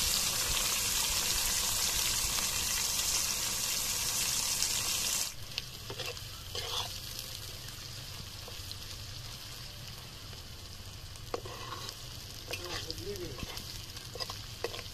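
Six medium onions, chopped, hit hot oil in a pan with a loud steady sizzle that drops to a softer fry partway through, broken by occasional scrapes and clinks of stirring.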